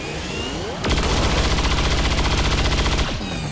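Rapid automatic gunfire from the XCOM 2 video game: a dense burst of about two seconds of fast repeated shots, loud and close, over a steady game ambience.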